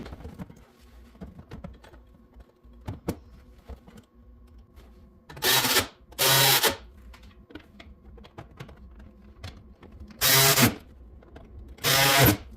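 A battery ratchet drives machine screws for tow hooks into the frame of a 2020 RAM 1500, giving four short, loud whirring bursts separated by quiet pauses with faint handling clicks.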